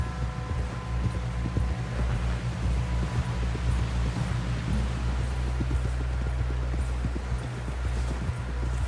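Horse hooves clip-clop at a steady walking pace over a continuous low rumble and faint rustling, close and fairly loud, in the video game Red Dead Redemption 2.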